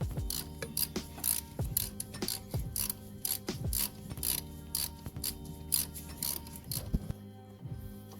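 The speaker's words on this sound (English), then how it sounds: "So now you can take your E14 socket again and go ahead and start tightening" A ratchet fitted with an E14 socket tightens the alternator bolts on a Porsche 911, giving a steady run of close, crisp clicking ratchet strokes in repeated bursts with short pauses.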